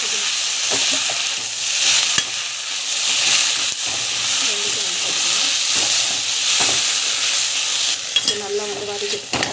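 Urad dal with coriander and mint sautéing in a pan, a steady close sizzle and hiss with occasional scraping stirs from a spoon, continuous throughout.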